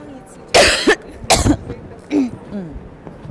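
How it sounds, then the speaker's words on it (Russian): A woman coughs several times and clears her throat in short bursts, close and loud, with a fainter throaty rasp and a soft clearing sound trailing off afterward. "Она сейчас откашляется."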